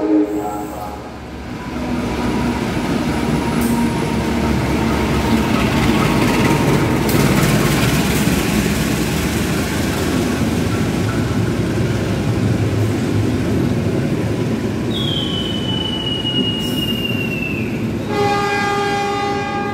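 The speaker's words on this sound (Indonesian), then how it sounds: "Kereta api Fajar Utama Solo melintas langsung stasiun Jatinegara." The Fajar Utama Solo passenger train roars steadily through Jatinegara station without stopping, at close range, wheels rumbling and clattering, with a long horn blast sounding near the end.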